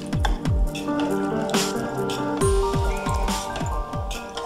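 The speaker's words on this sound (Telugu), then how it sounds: "ఇది కలపాలి బాగా." Jaggery batter for Andhra Bellam Rotti being stirred by hand in a bowl, a run of wet squishing, sloppy slaps at an uneven rhythm, close and moderately loud with no talk.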